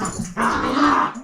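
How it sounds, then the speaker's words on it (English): Several dogs scuffling at close range, with throaty growls and snarls rising and falling through a short, continuous burst of rough play-fighting. "And those are our dogs fighting."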